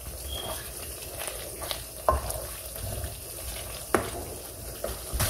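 Beef stew frying in oil over a high flame in a Pakistani home kitchen, a steady close sizzle with a few sharp clinks and scrapes of stirring breaking through.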